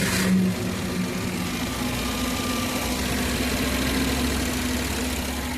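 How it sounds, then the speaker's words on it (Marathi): Maruti Eeco van engine, repaired after faulty ignition coils, idling steadily and smoothly at close range, a low even hum with a brief louder moment right at the start and no pauses throughout. "गाडी चालू झालेली आहे"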